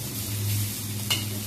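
Fiddlehead fern greens frying in a pan, a continuous soft sizzle with a brief utensil clink near the end.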